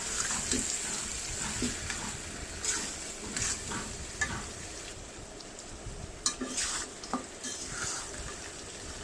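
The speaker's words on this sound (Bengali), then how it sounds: "লবণ দিয়ে দিলাম কাঁচা মাথাগুলো দিয়ে দিলাম এবার ভালোভাবে কষিয়ে নেব" Raw fish heads with salt are sautéed in a pan, giving a quiet wet sizzle with repeated scraping stirs and a few sharper clinks, close and continuous with no talking.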